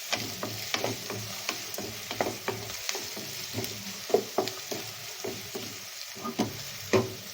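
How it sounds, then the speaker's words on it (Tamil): Sliced onion frying in a pan with grated coconut being mixed in, heard as a quiet background sizzle broken by repeated sharp scrapes and taps of a spoon stirring at an irregular, unhurried pace. "வெங்காயம் நல்லா வணங்கினோடனே நம்ம தேங்காய் இதோட சேர்த்துக்கலாம்."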